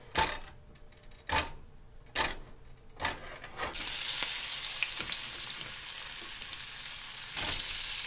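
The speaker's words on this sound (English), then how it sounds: "We're going to use this frying pan and cook it up." Avocado frying in coconut oil in a frying pan, with a steady, loud sizzle that builds and holds after a few sharp clatters and stirring knocks at the start.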